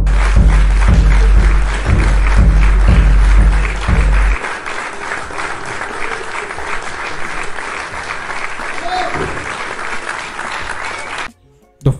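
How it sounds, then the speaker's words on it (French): Dense applause from a crowd used as a sound effect in a generated YouTube short, loud and continuous with a pulsing low thump in the first seconds, then cutting off abruptly near the end. "après la fin du premier shot, les applaudissements ont continué"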